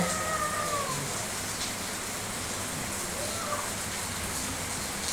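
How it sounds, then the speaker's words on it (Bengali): Steady hiss of heavy rain pouring outside, constant and fairly even throughout, with faint indistinct background sounds. "এই দেখেন বাহিরে অনেক বৃষ্টি"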